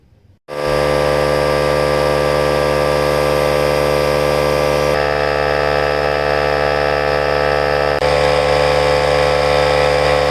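A Harbor Freight air compressor runs loud and steady for about ten seconds after starting abruptly, its motor drone carrying a bright hissing whine, with no talking.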